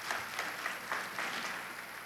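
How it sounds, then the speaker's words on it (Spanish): A crowd claps steadily throughout, a dense, even patter of applause heard from a moderate distance, with no voices. "Un fuerte aplauso sin dudas para estos panelistas estrellas"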